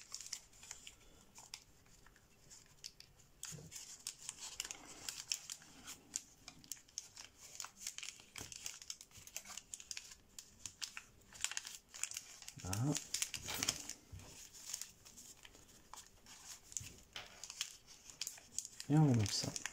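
Paper crinkles and rustles in short bursts as an origami rabbit ear fold is made while folding a John Montroll lobster model, with a voice speaking between the soft handling sounds.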